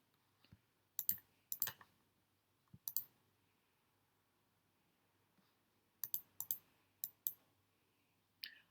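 Button presses on a graphing calculator, entering an integration problem: short clusters of sharp, close clicks in uneven bursts separated by quiet pauses, with no talking.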